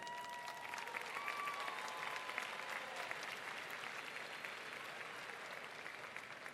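A convocation audience applauds at a college ceremony, a continuous, even patter of many hands heard from some distance at low level.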